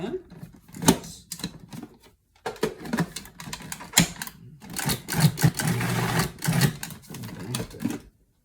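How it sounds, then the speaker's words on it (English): A food processor pulses a mocha almond mousse mixture in short bursts of whirring with pauses between, while a person talks over it. "you're just going to pulse it until it's blended in"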